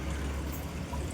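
Water pours steadily into a home fish tank, a continuous close splashing flow that fills the short stretch on its own with no voices.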